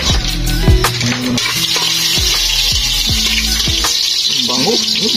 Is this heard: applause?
no